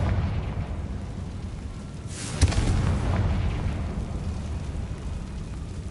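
A Confringo blasting spell explodes in the Hogwarts Legacy video game, one sharp blast rising out of a steady rumbling game ambience and fading into a long low roar.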